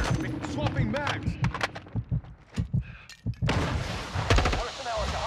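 Sharp gunshots from a military shooter video game crack out in irregular bursts. Heavy thumping impacts sit between them, and a dense, noisy barrage closes the stretch. Brief game voice callouts are mixed in.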